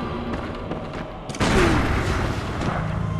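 Gunshots from firearms in the video game Bloodborne, fired amid dense game noise, with a loud booming burst partway through followed by a sustained rumbling, crackling wash.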